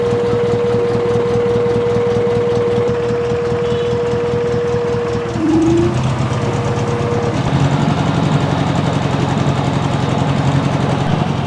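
A Nissan Sunny B310 engine idles steadily with a low, even rumble and faint mechanical ticking, continuous throughout with a slight shift in tone midway.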